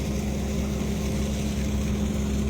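Motor of a fishing boat droning steadily at sea off East Aceh while another boat is towed, a loud continuous low engine hum with water noise and no voices.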